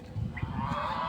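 Geese honk briefly nearby, a short burst of nasal calls over low background rumble.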